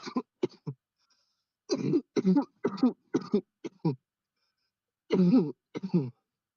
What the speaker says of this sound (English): Stop coughing, bro.